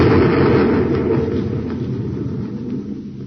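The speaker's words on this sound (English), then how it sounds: "Well, there goes a perfectly good light neutralizer, blown to bits." A light neutralizer blows apart in a radio space drama, a loud, heavy rumbling blast that starts at full force and slowly rolls off over a few seconds, alone with no voices.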